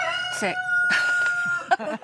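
A rooster crows loudly and close by, one long drawn-out cock-a-doodle-doo with a few clucking notes around it, heard in a French countryside setting.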